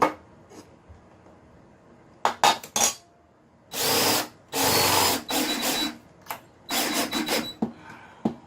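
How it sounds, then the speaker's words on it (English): A power drill whirs in several short bursts, revving up and stopping, with some faint shuffling between runs; close and fairly loud. "God, that drill got some torque."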